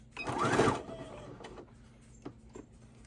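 A sewing machine running a short back stitch on fabric for a door hanger, a brief close mechanical whir burst followed by a few soft ticks and clicks in a quiet room.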